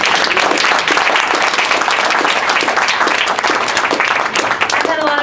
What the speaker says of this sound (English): Can we give another round of applause for that presentation